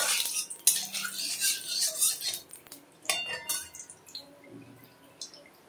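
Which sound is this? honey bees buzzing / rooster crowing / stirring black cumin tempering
stirring black cumin tempering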